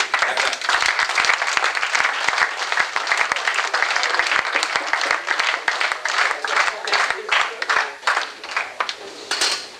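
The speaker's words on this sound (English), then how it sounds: "give yourselves a round of applause for making it through these 4 days" Sustained applause from a large seated audience at the close of a four-day event, dense and steady throughout with no break.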